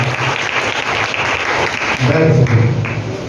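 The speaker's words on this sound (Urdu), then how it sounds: "دل کھول کر خدا کے لیے تالیاں بجائیے" A church congregation claps together in sustained, loud applause, a dense continuous patter of many hands filling the hall, with a few voices rising briefly near the end.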